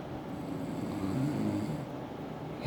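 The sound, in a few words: person snoring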